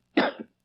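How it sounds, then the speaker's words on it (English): A man gives a short double cough as a signal, quick and close, two bursts run almost together with nothing after. "I'll cough twice, like this."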